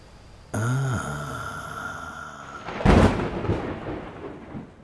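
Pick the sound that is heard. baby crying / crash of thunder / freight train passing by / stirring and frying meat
crash of thunder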